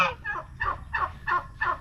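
A gander guarding chicks in a provincial farmyard among chickens and turkeys honks six times in an even, rhythmic series, loud and close, with no speech.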